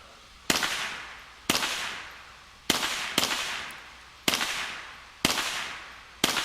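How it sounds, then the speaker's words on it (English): A small but loud gun firing seven sharp, separate shots at uneven intervals of roughly a second, each crack ringing briefly before fading, with no voices. "That's a loud little gun."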